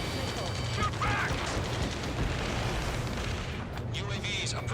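Dense, continuous combat rumble of gunfire and booming blasts in the flight combat video game Ace Combat 7: Skies Unknown, with radio voices talking over the steady barrage.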